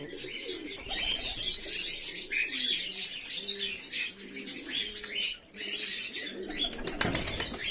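Domestic pigeons in a loft coo steadily in soft repeated phrases while wings flap and flutter close by, with a burst of flapping near the end and no talk.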